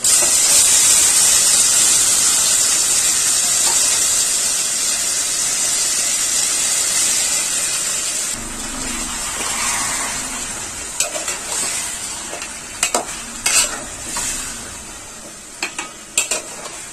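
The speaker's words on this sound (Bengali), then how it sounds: "আমি এখানে তেল গরম করে পেঁয়াজ আদা ভাজা করে গোস্তগুলোকে ঢেলে দিচ্ছি" Marinated meat poured into hot oil with fried onion and ginger for biryani, first a loud, even sizzle, then a softer frying hiss broken by sharp utensil scrapes and clinks as it is stirred, with no talk.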